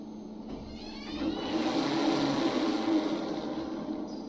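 An electric vehicle hub motor spins its wheel as the throttle is varied, a faint whirring hum that rises in pitch and strength, holds, then eases back down.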